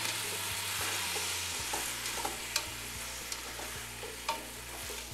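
Vegetables browning with Kentucky bourbon in a pan give a steady close sizzle, with a few sharp stirring clicks and scrapes scattered through it and no voices.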